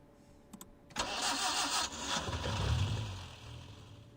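A car engine in the game Reverse: 1999 cranks and catches after a couple of clicks, then revs and settles into a steady mid-pitched idle.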